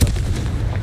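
A Confringo fire-blast spell explodes in the game Hogwarts Legacy, a loud, sustained booming burst that fills the short moment with heavy low rumble.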